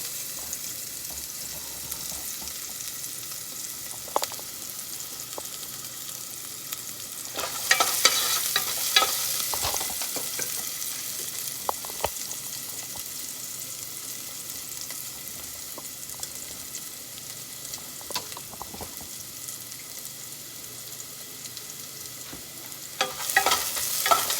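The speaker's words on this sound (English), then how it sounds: "Just saute everything down." Food sautéing in a pot gives a steady frying sizzle with occasional stirring scrapes and clinks, louder hissing bursts around the middle and near the end, with no talk.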